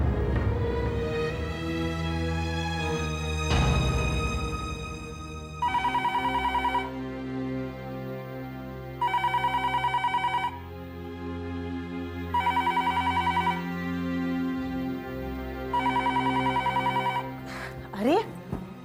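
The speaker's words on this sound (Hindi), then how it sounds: "अरे ये फोन कब से बजे जा रहे, उठाइए ना।" A landline telephone rings insistently in a scene from a Hindi TV serial, giving four separate bursts of ringing at steady intervals over a background of music and dialogue.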